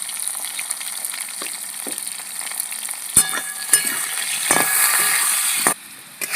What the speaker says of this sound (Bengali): মাছের তেলে আমি আলুগুলো ভেজে নিচ্ছি